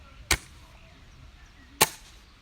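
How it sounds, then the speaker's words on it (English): An airsoft bolt-action sniper rifle being cocked and fired gives two sharp, loud snaps about a second and a half apart, close by and with no talking. "So you hear the difference in the cocking, the firing."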